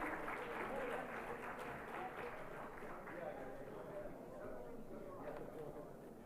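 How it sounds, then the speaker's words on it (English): An audience applauds at an award ceremony during India Maritime Week 2025, a dense, steady wash of clapping that holds through the whole stretch, fairly soft, with a voice over the PA carrying on over it. "Big round of applause."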